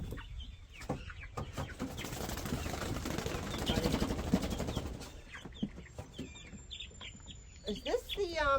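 Freedom Ranger chickens cluck and squawk close by in bursts, with a busy flurry in the middle, as people talk quietly among them.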